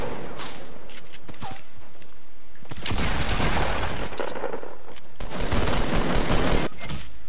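Bursts of rapid gunfire in a Fortnite battle royale match, loud and dense from about three seconds in, with a second heavy burst near the end and quieter game ambience before.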